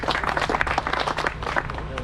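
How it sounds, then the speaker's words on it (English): Crowd applause and clapping at an outdoor drag racing event, a dense burst of many hands close by, steady for a couple of seconds with some voices mixed in. "Round of applause."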